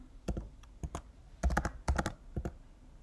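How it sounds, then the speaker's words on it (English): Typing on a computer keyboard while building a welcome email: irregular clusters of crisp, close key clicks, some in quick bursts and others single taps, with short pauses between them and no talking. "so now I will type here bracelets"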